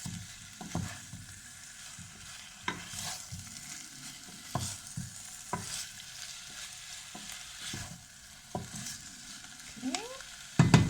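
Turkey pieces with onion and paprika frying in a pan, giving a steady soft sizzle with repeated scraping stirs throughout and a louder clatter at the very end.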